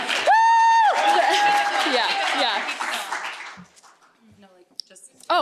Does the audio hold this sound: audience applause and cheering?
yes